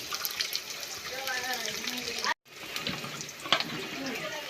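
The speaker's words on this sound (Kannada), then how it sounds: "ನಮ್ಮ ಅಕ್ಕ ನೀರು ಹೊಡಿತಾ ಇದ್ದಾಳೆ ಪರ್ಸಲಿಯಲ್ಲಿ ನೋಡಿ" Water splashes and patters steadily outdoors, with a brief cut in the middle; faint voices murmur underneath.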